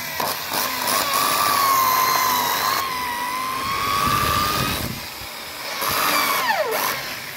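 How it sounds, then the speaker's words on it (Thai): A power drill whines at a steady high pitch as it bores a pilot hole into wood for a screw on a three-step wooden ladder, running in two long pulls with a short pause, then dropping in pitch as it winds down. "ตัวนี้ให้ทําการเจาะนําเข้าไปก่อนนะครับ"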